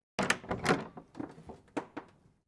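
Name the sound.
door opening, sound effect in an audio story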